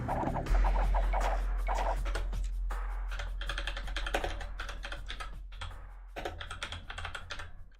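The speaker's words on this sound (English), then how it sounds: "I got typing to do." Rapid typing on a computer keyboard during an Age of Empires II session: bursts of close, crisp key clicks, a few pauses between runs, over a low steady hum from the game.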